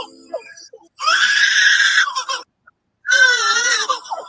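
Lyrebird calling in two loud, close, drawn-out bursts of harsh, screechy mimicry, separated by a brief silence, with a short faint note at the start.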